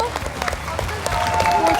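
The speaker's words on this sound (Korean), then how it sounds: "박수 주시기 바랍니다" A crowd applauds steadily at a magic show, with dense clapping, voices and cheers mixed in over the brief stretch.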